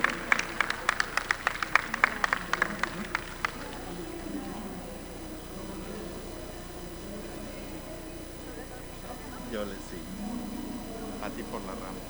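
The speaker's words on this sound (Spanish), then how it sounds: "Un aplauso, por favor." Audience applause after an introduction at an education academy event: a few seconds of distinct, fairly close hand claps that quickly thin out, followed by quiet room tone and faint talk.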